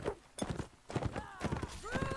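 Horse hooves clip-clop in a video game, a quick run of close, hollow knocks in short bursts, with a voice heard briefly over them.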